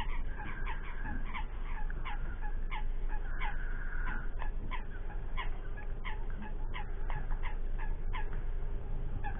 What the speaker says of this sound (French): On a tous les foulques autour qui piaillent de partout.